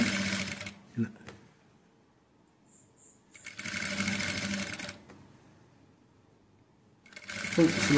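A sewing machine stitches thread piping onto a blouse in short bursts: a brief run, a pause, then two longer, steady whirring spells of rapid stitching, separated by quiet gaps.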